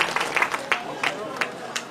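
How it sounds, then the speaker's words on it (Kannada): An audience claps at a public event in Kalaburagi, scattered handclaps with a few sharper bursts, fairly light and uneven. "ಜೋರಾಗಿ ಚಪ್ಪಾಳೆ ತಟ್ಟುವುದರ ಮೂಲಕ"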